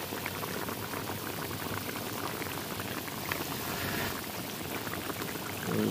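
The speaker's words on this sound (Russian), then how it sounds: "Мясо мы тушим минут 15." Meat stews for potatoes with meat and mushrooms in a kazan set on a tandoor, giving a faint, steady bubbling and simmering that continues evenly throughout.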